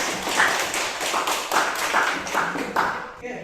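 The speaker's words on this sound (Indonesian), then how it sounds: "Silakan tepuk tangan ya." Students in a classroom clap together, a dense patter of hand claps rising and falling in several bursts over a few seconds, fairly close and steady, then cutting off at the end.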